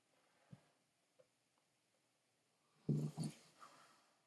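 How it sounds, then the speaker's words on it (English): A dog gives a few soft snorting, whimpering breaths, then two louder close grunting huffs late in the clip, in a quiet room. "You heard the dog."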